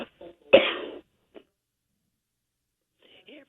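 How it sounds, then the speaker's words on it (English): Someone on a radio talk show clears their throat once in a short, rough burst, close to the mic, with a few faint mouth sounds around it in an otherwise quiet room. "Go ahead and clear your throat there"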